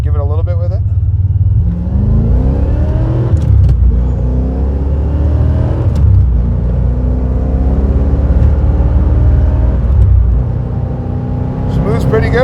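A 1985 Corvette with a 4+3 manual transmission revs and pulls away, its mid-pitched engine climbing and dropping through several gear changes, loud and close, with people talking over it.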